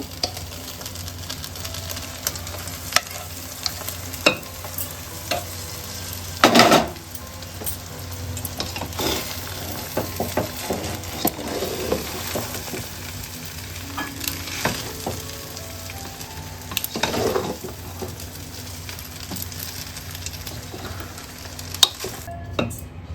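Vegetable fried rice without onion or garlic being stirred in a pan over a low gas flame, giving a soft continuous sizzle with scattered scraping and spatula knocks, including one louder clatter near the middle.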